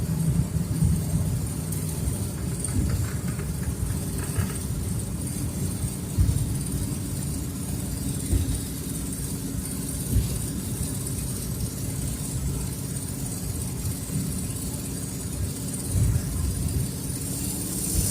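A rescued scrapyard Ford Fairlane drives along with its engine running in a low, continuous rumble under steady road and wind noise, heard from inside the car.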